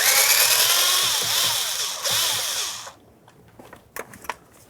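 A power screwdriver whirs loudly and close as it backs out mounting screws from a 2006-2012 Ford Fusion's combination switch, its pitch wavering under load for about three seconds, followed by faint clicks and handling of loose parts.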